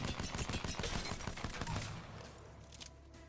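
Rapid hip-fire shots from a P2020 pistol in Apex Legends, a fast string of sharp, close cracks for about two seconds, then tapering into fainter scattered shots and ambient rumble.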